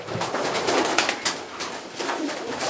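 Domestic racing pigeons coo in a loft, soft throaty repeated coos close by over a rustling background, with no talk.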